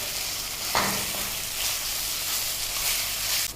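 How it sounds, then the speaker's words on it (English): Minced mutton sautéing in a pan, a steady close sizzle and frying hiss that runs throughout, with a brief stir scrape near the start. "needs to be sauteed a little more"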